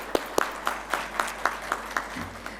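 At a business forum, a small audience claps in a sparse, uneven rhythm, about ten distinct claps spaced roughly a quarter second apart over a low steady hum, with no talking.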